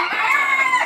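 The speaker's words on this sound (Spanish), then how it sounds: "Y pues estamos en super gallos. Y muchos gallos." A rooster crows in a short, loud, close call with a strained, wavering tone, heard alone at a rooster farm in Mochitlán.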